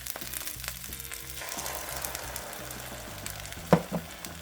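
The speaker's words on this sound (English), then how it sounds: "That way I can fry the egg right there." An egg fries on a hot pan surface next to rice with a steady, soft sizzle and crackle. Intermittent low scraping from stirring runs through it, and near the end come a couple of sharp utensil knocks.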